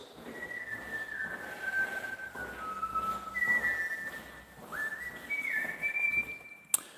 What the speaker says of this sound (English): Is whistling with echoes slightly enchanting?